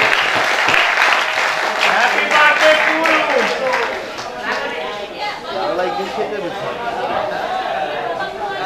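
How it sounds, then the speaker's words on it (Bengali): Audience applause at a 60th birthday celebration in Bangladesh, steady clapping from a crowd sustained throughout with chatter and voices mixed in. "সবাই একটু হাতে করতালি দেন।"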